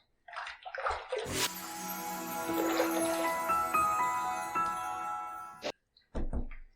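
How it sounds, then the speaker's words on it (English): Water splashed by hand onto a lathered head during a wet head shave, a loud running and splashing rush lasting several seconds with a brief drip and splash after a pause. "let me just throw a little bit of water up there"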